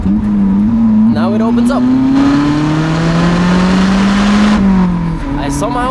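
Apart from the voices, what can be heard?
Lotus Elise engine revving with downshift throttle blips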